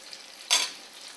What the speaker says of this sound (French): Donc on va commencer la cuisson du filet de bœuf.